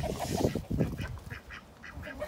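A small flock of domestic ducks and geese, including Muscovies, calling together nearby, with a run of rough honks and quacks followed by a steady series of shorter, evenly spaced calls.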